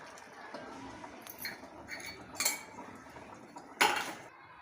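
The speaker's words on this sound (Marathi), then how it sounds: "दोन चमचे तूप घालूया आणि झाकून घेऊया" A spoon clinks against a pot as ghee goes into cooked rice with field beans, then the lid is set on, giving a few quiet, brief metallic taps over a soft background.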